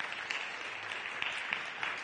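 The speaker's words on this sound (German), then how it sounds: "Donnernder Applaus" Audience applause at a conference talk, a steady moderate patter of many hands clapping throughout, fairly close and without speech over it.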